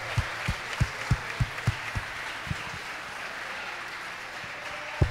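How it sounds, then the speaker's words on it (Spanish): Applause from spectators at a Spanish individual spearfishing championship, honoring a competitor: a steady wash of clapping with a string of evenly spaced, heavier thumps early on, moderately loud and without talk. "un aplauso por favor también para Alejandro"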